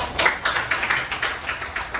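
A classroom of students claps for a group, a short burst of several hands slapping in a loose, uneven rhythm close by.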